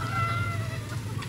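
Hens cluck softly in a short burst, with a low murmur of poultry sounds nearby.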